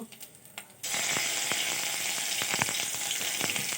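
Ginger and fennel paste drops into hot oil in a pan and bursts into a loud, continuous sizzle, with faint crackles and a few soft stirring clicks over it.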